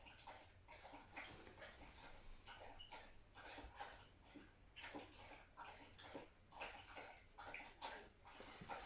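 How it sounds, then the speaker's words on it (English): A dog named Boo charges around a room indoors, a busy run of scrabbling, thumping footfalls and scuffles repeating steadily at moderate, fairly close loudness with no talking. "that's Boo you can hear charging around the room."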